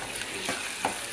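A boiling pot of food is stirred, giving soft scraping swishes with a couple of louder strokes over a steady bubbling hiss, close and fairly quiet with no talk.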